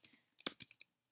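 Typing on a computer keyboard: about seven quick, crisp key clicks in an uneven burst, close and fairly quiet with no other sound around them.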